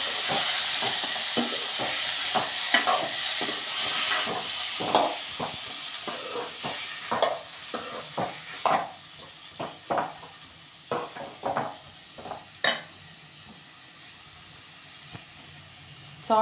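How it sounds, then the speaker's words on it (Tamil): Tomatoes being sautéed and stirred in a pan for a tomato chutney: irregular clicks and scrapes of a spoon against the pan over a soft, steady sizzle, close and moderately quiet, with no talking. "அந்த தக்காளியும் எல்லாத்தையும் போட்டுட்டு நல்லா வதக்கிட்டுக்கலாம்."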